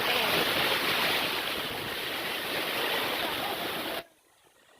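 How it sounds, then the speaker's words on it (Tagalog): Loud, continuous crash and roar of strong surf breaking close by on a beach at night, steady for about four seconds before cutting off abruptly into near silence. "Lakas ng alon."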